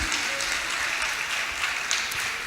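Church congregation applauding together, a dense, steady wash of clapping that stays even and fairly loud throughout, with a few brief voices mixed in.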